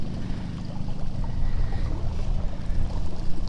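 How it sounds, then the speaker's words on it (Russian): A small fishing boat glides along under an electric trolling motor on an autumn perch-fishing outing, giving a steady low rumble of motor and water that stays even and close throughout, with no talk. "И с этим электромотором мы сейчас поплывем на нашу точку."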